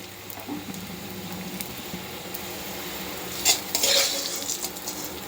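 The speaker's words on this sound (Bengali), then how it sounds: "দেখতে পাচ্ছ একটু এরকম করে ভেজে নিয়েছি।" Leaves fry and are stirred in a pan, giving a soft, continuous sizzle with utensil scrapes and a couple of louder clinks near the end, heard alone without talk.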